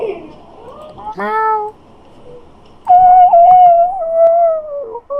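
Two drawn-out, high meows in a quiet room, seemingly a person's voice imitating a cat, each separated by a short silence.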